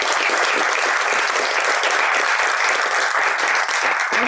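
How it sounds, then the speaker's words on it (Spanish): An audience gives steady, fairly loud applause to welcome a community forestry adviser from San Juan Atzingo, continuous clapping throughout with no speech over it. "Vamos a recibirla con un aplauso"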